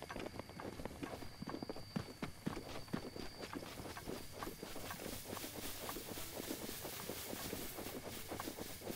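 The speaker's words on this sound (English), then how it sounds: "Go, horsey. You're free to go." Horse hooves in a video game clip-clop in a fast, steady rhythm, faint and continuous under a low background, with no voices.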